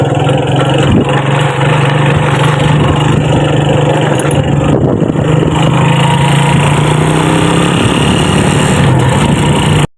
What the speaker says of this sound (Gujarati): બાઇકમાં આપણે બેસી ગયા પાછું લઈને સીધા હાલેજી